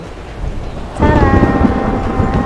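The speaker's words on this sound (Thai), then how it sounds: "แต่ว่าวันนี้ ฝนตกค่ะ" Steady rain falls on a balcony in Loei, Thailand, a broad continuous hiss that turns louder and denser partway through, with a faint tonal hum added over the downpour and no clear thunder.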